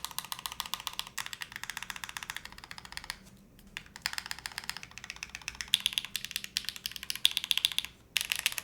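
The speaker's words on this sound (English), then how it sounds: "I think the spacebar sounds more well-rounded with this." Mechanical keyboard typing on a Cloudline TKL, including spacebar presses: a steady run of close, crisp clicky keystrokes with brief pauses, loud and alone with no voices.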